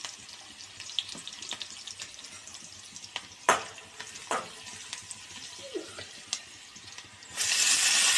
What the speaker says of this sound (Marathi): त्यात धुतलेली मुगाची डाळ आणि धुतलेली मेथीची भाजी टाकलेली आहे। ते सगळं एकत्र करून घेऊया।